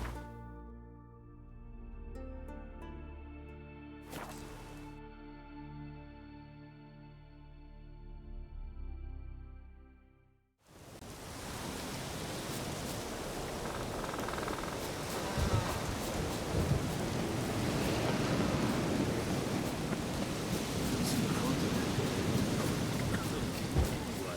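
Heavy rain with thunder in The Witcher 3, a dense steady downpour that starts abruptly partway through after a quieter musical stretch, with low rumbles rolling underneath.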